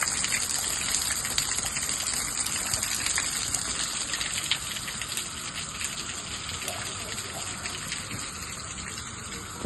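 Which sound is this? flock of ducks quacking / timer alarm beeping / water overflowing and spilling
water overflowing and spilling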